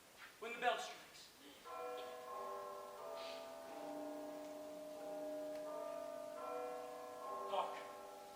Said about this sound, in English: Tonight, when the bell strikes.